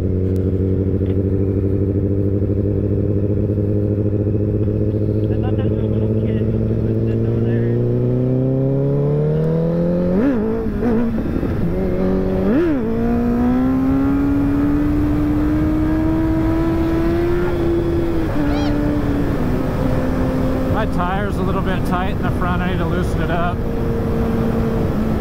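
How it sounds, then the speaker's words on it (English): A motorcycle rides along the Avenue of the Giants on freshly installed tires, its engine humming steadily then revving up through rising gear pitches, loud and close, with wind rush throughout and a rider talking over it. "that bike sounds sexy."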